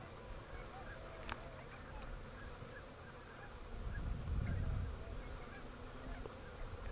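Wild birds honk during spring migration on a ranch, with a soft burst of low honking partway through over constant faint outdoor background noise.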